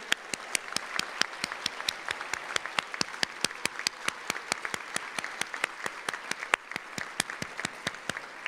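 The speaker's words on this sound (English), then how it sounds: "Give them a round of applause" At a health professions school graduation, certified students are applauded by a sparse crowd, with one loud, steady clapper standing out in a fast regular rhythm over a softer background of clapping.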